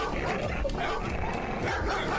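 Two scared dogs whimper and yip in an AI-enhanced, sped-up video, producing short, high, uneven cries over a dense, noisy background.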